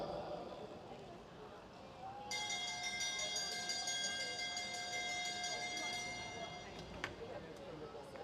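A bell rung for the final lap of a junior race rings out clearly with a long, sustained metallic tone over crowd noise and commentary, then fades.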